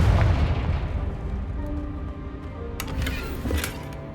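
Confringo fire spell blasts in the video game Hogwarts Legacy, a loud booming explosion that decays over several seconds, followed by a couple of sharper crackling bursts near the end.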